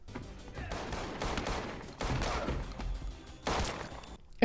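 A loud burst of gunfire in the action film John Wick: Chapter 2, with rapid shots and crackling blasts across several seconds, heard without talk.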